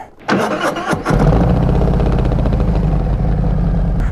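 A Harley motorcycle fitted with an S&S Sidewinder 2:1 exhaust cranks briefly, then barks to life and settles into a loud, throbbing idle close to the listener.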